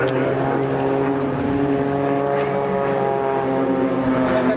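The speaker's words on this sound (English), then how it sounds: "There's a purpose-built competition aircraft with outstanding performance." Propeller-driven aerobatic competition aircraft fly in formation at the RAF Valley air show on Anglesey, their engines forming a loud, steady, droning roar that holds throughout.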